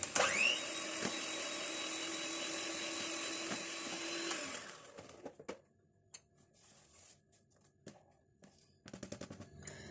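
An electric beater whirs steadily through butter and sugar in a bowl for several seconds, then cuts off, leaving soft clinks and scraping in a quiet room.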